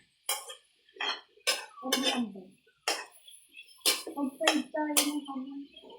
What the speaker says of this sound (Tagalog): Ganyan po sila, oh. Halinhina ng paghalo.